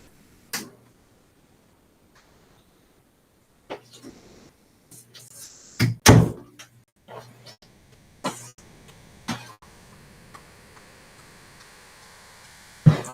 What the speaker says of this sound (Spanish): en esta vez voy a cerrar mi puerta un ratito.